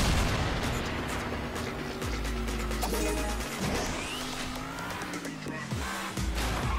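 Chaotic, loud crashes and booms from a Dick Rocket weapon hit in the Table Top Racing: World Tour video game, layered over continuous racing engine noise and rumbling impacts throughout.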